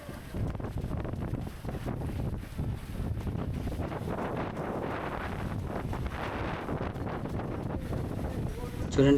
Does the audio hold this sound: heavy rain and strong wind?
yes